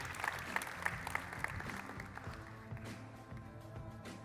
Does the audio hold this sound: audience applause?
yes